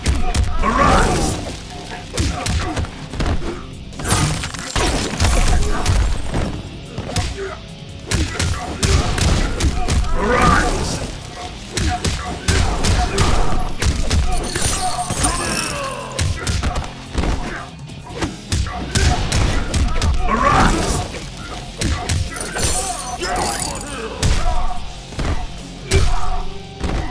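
Dense, continuous barrage of punches, kicks, thuds and crashes from a Mortal Kombat X fight, loud and busy throughout nearly thirty seconds, with occasional voices over the combat.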